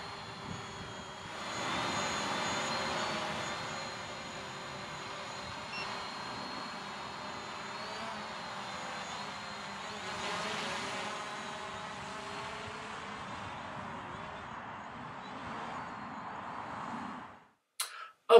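A Hubsan Zino quadcopter drone hums steadily as it flies around a field, a faint, continuous buzzing that swells and fades slightly as it moves, ending in a brief clatter.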